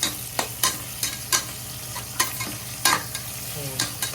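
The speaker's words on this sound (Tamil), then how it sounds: "நல்லா வதங்கணும் வெங்காயம்" Onions sizzle steadily in a hot pan while a utensil scrapes and stirs in regular, clattering strokes, close by, as they fry toward light brown.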